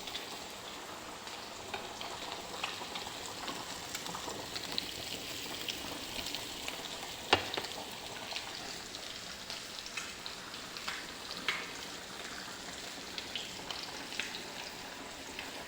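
Onions hiss and crackle in hot oil in a home kitchen where fish is being cooked, a faint steady sizzle like light rain with occasional small pops, and no talk.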